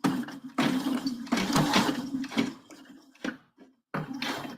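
A sewing machine top stitches fabric coasters at a longer stitch length, running in several bursts of rapid mechanical whirring separated by brief pauses, fairly close and loud.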